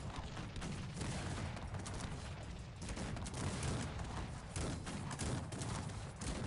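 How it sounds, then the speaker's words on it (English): Cannon fire and battle din from the real-time strategy game Cossacks 3, with artillery pounding an enemy army amid dense continuous gunfire and booms, loud and steady throughout with no talk. "The cannons are doing quite a good job though, driving into the enemy army"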